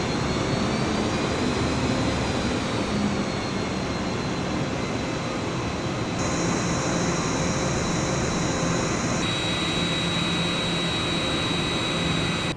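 Steady, loud broadband roar of Boeing 787 airliner engines on approach in Microsoft Flight Simulator, continuous throughout with a faint high whine and slight tonal shifts partway.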